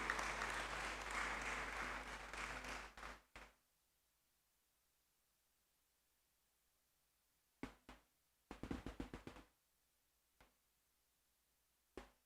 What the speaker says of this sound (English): Let's encourage him with a round of applause as he comes.